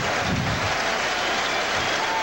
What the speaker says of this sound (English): The crowd here at the vet